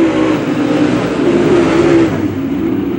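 Race cars roar on the final lap at Macon Speedway, a loud continuous engine drone that rises and swells as the pack approaches, then eases slightly as it nears.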